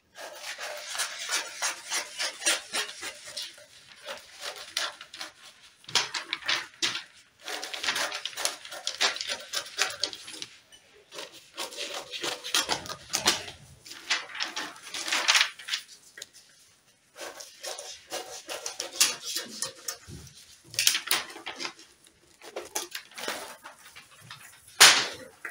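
Scissors cutting fabric for an off-shoulder crop top, repeated close crisp snipping and rasping strokes in bursts with short pauses, fairly quiet.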